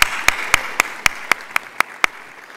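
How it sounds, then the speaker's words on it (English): Clapping at an award gala comes as about ten sharp, evenly spaced claps in a quick steady rhythm. It sounds close and crisp rather than like a large crowd's wash of applause. "let's give her a warm round of applause."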